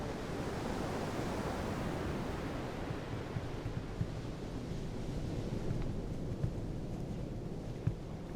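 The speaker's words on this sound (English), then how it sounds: "powerful masses of water thunder down to the tundra" A broad, continuous roar of powerful meltwater masses rushing down onto the tundra, dense and unbroken at a steady level with no voices.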